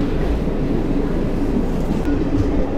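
Sainagar Shirdi Express train moving near Vikarabad station, a continuous close rumbling of rail cars filling the whole stretch, with faint talk mixed in.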